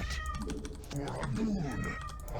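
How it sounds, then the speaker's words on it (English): A real house cat meows, a short, wavering cry in the middle of the stretch, while someone talks and a computer keyboard clatters nearby. "the cat's in agony that I can't do this"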